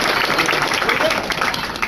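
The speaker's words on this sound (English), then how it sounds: "Give her a round of applause." A comedy panel audience at MechaCon 2013 gives a round of applause, a dense, steady wash of clapping filling the whole moment without a break.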